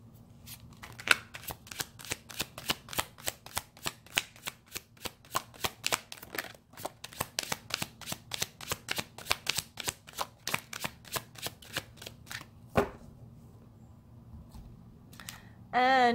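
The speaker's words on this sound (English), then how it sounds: "Let's pull some cards for your need to know section." A deck of tarot cards is shuffled in a steady run of crisp, close riffling clicks lasting about thirteen seconds, followed by a short pause and a final burst of card handling.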